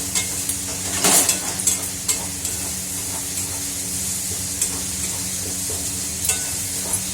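Masala spices being stir-fried in a pan: a steady sizzle with scraping stir strokes and a sharper clatter near the start, close and continuous, no talk.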